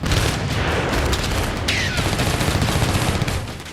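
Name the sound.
ammunition depot explosions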